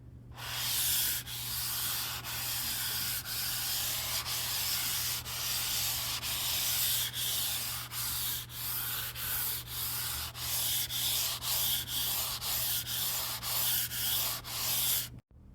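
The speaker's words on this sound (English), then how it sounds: "it has a pretty atrocious noise or sound as you swipe across it" A computer mouse slides back and forth across a Skypad XL 3.0 glass mouse pad, producing a harsh, dry rubbing scrape in repeated strokes that grow quicker and more rhythmic toward the end, close and alone.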